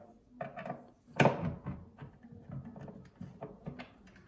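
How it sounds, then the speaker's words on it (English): A wooden cabinet door on adjustable hinges is pulled out and shifted, giving a sharp knock followed by a run of light wooden clicks, taps and rubbing, close and fairly quiet with no talk. "loosen the rear screw, and that will give you this movement to pull the door out slightly"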